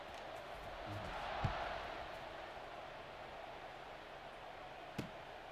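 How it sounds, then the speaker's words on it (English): Stadium crowd in the College Football 26 video game at a rivalry game against USC, a steady, dense buzz of many voices after a score, with a couple of brief louder thumps rising out of the wash. "this crowd is buzzing after that last score"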